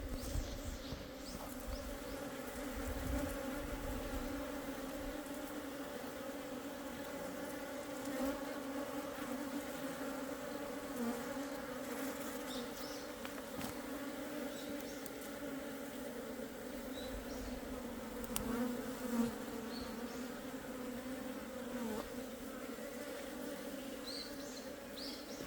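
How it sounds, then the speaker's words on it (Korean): Honeybees at an apiary buzz in a dense, steady drone, the harsh agitated hum of robbing bees swarming the hives, continuous and close throughout with no voices. "내 봉장에서 설치고 있는 도봉의 소리는 굉장히 싸납다"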